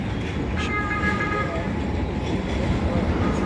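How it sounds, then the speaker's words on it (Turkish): A tram rumbles past on a busy street in Bursa, Turkey, with a brief horn-like toot early on and steady traffic noise throughout. "Şu tramvay geçsin."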